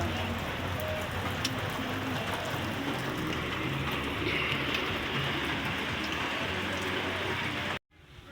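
Steady rain falls continuously on an outdoor surface during a wood-gathering outing, a dense even hiss that cuts off abruptly near the end.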